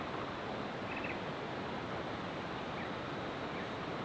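Rushing water from a waterfall deep in a Bali jungle: a steady, dense broadband wash that holds unchanged for about four seconds, fairly distant and with no voices over it.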